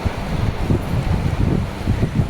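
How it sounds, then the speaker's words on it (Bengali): Strong wind gusts outdoors in the hills near a lake, heard as heavy, rumbling buffeting against the microphone that continues without a break. "হাওয়া ছাড়ছে খুব জোরে সাথে বৃষ্টি"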